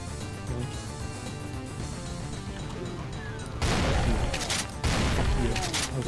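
Video game gunfire crackles in rapid bursts over a busy game soundtrack, with two louder volleys of shots and impacts in the second half.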